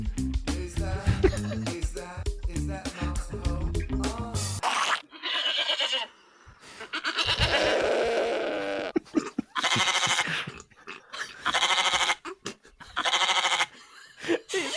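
Rapid sheep bleats from a soundboard fire off in quick bursts, some overlapping in fast stuttering runs, loud and close with short gaps between clusters.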